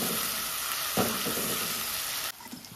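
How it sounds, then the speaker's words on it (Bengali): Masala paste sautéing in a pan with salt, turmeric and a splash of water, a steady loud sizzle with a brief stir near the start before the frying noise drops sharply toward the end. "মশলাটা কষানো হয়ে গেছে"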